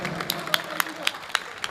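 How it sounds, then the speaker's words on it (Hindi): Audience clapping to welcome a gift presentation at a birthday event, a loose, brisk patter of several claps with a few sharp single claps standing out at a steady rhythm. "एक बार जोरदार तालियां बजाकर स्वागत करें"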